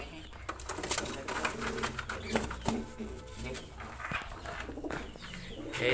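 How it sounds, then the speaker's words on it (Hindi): Domestic pigeons coo softly at a nest holding a chick and eggs. The low, faint cooing runs throughout, mixed with background noise and a voice. "हमारे कबूतर इधर इसने बच्चा निकाला है"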